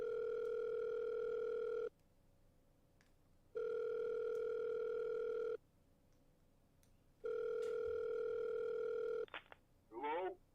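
A telephone dial tone on speakerphone sounds in three steady, loud stretches of about two seconds, separated by quiet gaps, followed by a brief click and a short burst of a voice at the end.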